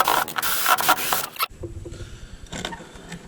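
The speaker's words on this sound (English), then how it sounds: "I'm actually going to use the impact." A cordless impact driver whirs and rattles up close for about a second and a half as it backs out the long screws of a wall outlet cover plate, then stops, leaving quiet handling noises.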